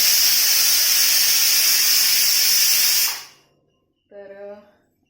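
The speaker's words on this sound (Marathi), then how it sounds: "कुकरचे शिट्टे होत आहेत दोन झाले आता एक झाली की बंद" A pressure cooker on a home gas stove releases a loud, sharp steam hiss that holds steady for about three seconds, then fades out, followed by a brief voice.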